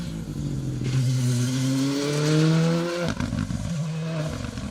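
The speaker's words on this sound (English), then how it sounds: "car 44, and another Rally 2 Fiesta" A Ford Fiesta Rally2 rally car races past on an asphalt stage, its engine rising to a loud roar as it nears, then falling away with a sharp gear change.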